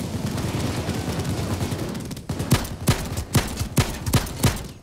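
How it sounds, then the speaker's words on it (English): Gunfire in the Payday 2 heist game during a safehouse raid: a dense continuous rattle of shots at first, then a string of sharp, loud individual gunshots spaced irregularly in the second half. "Getting shot at."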